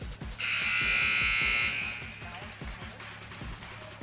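A loud electronic buzzer blares for over a second at the end of a period in a girls' high school basketball game in a gym, over rhythmic thumping and crowd noise that continues after it stops.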